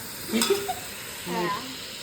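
Onions frying in a pan as ginger garlic paste is added, with a continuous sizzle, a few clinks and scrapes of stirring, and a brief voice in the background.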